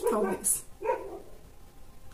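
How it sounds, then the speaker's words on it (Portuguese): Dogs bark in the background, two or three short, somewhat distant barks within a couple of seconds, while a person speaks briefly over them. "tem uns cachorros latindo ali"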